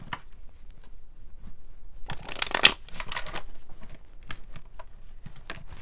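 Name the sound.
shuffling cards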